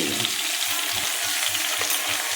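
Smoked catfish sizzles loudly and continuously in a hot pan cooked with onions, a dense steady frying hiss with soft rhythmic low thumps underneath, close up and free of talk.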